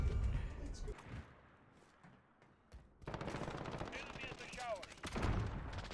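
Gunshots from an AX-50 sniper rifle in a video game ring out as a few sharp, loud reports with echoing tails amid game ambience, and a voice talks over the louder later part.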